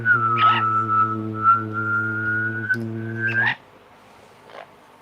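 A pet Amazon parrot makes a sustained buzzing, whistling rattle, one long tonal call holding for about three and a half seconds with a slight upward slide before it cuts off, followed by quiet.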